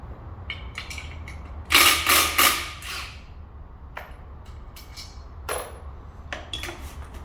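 Metal clicking and ratcheting from a wrench working a coupler bolt during coupler removal, a loud burst of rapid clicks in the middle with scattered sharper clanks before and after, close up with no talk.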